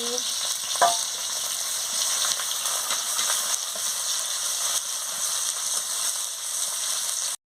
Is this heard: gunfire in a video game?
no